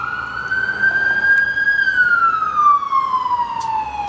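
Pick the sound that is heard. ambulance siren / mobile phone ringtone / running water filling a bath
ambulance siren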